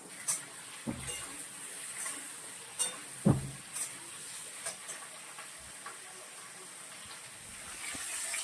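Potatoes for aloo dum fry slowly in a pan on a home stove, giving a soft, steady sizzle broken by a few light clinks and scrapes of stirring, with no talking.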